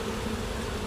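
Honeybees buzz inside a hive crowded with hive beetles, a dense, steady, close hum filling the brief moment without talk.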